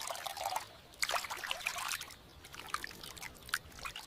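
Water trickles and splashes in small, uneven bursts while meat is washed in a miniature doll kitchen, faint and close, with no talk.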